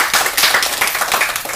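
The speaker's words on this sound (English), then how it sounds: "he deserves a round of applause for that" Applause at a city board meeting, a dense, steady patter of many hands clapping together for the whole stretch, fairly loud and close with no talk over it.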